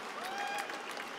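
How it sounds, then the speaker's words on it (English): A short burst of applause from an audience at a gaming cup event, dense and steady throughout with faint cheering mixed in. "you have to give them a round of applause"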